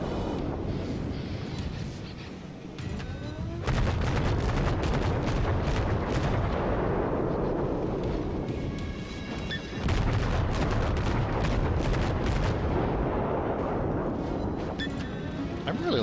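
Warship naval guns fire in the game World of Warships. Heavy booming salvos repeat in dense rolling bursts with a short lull between them, and a voice speaks faintly underneath.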